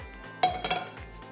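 A metal frying pan being taken out and handled in a home kitchen, giving a sharp clank followed by a few lighter metallic clinks and rattles, close by and fairly loud, with no talking.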